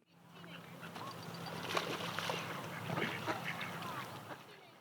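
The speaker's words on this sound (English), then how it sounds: "There are a lot of very excited ducks, some swans, even a baby swan" Ducks quack excitedly in a busy flock by a river, with swans nearby, overlapping calls rising and falling against a quiet, sunny, windy outdoor background.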